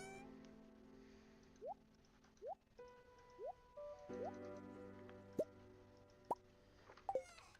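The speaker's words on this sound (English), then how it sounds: "Time to water the crops." Watering crops in the Stardew Valley farming game: a run of short, bright watery plops and drips, each a quick rising splash, spaced about a second apart over soft game music with a few sharper ticks near the end.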